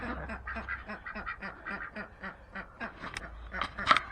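Khaki Campbell ducks quack repeatedly in a rhythmic, chattering series, fairly faint and close together, with a slightly louder call near the end.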